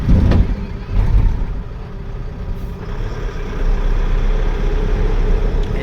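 A vehicle rolls slowly along a road near a bypass under construction, its engine rumbling close and loud, with a heavier low drone building in the second half and a brief squeal of brakes.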